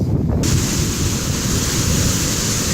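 Ocean surf at Pacific Beach in San Diego roars as a steady, loud wash of waves, with wind buffeting the microphone throughout and no talk.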